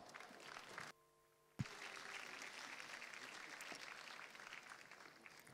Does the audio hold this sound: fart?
no